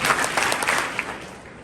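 Students in a high school audience clap for a candidate's speech, a brief burst of dense close applause that fades out over under two seconds.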